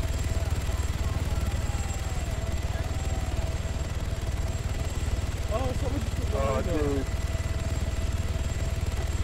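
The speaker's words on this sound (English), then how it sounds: "Look, there's a chopper hovering right above us." A steady video game helicopter drone, hovering overhead in Arma 3's Altis Life, with chopping low rumble throughout, loud and constant, while voices talk briefly over it partway through.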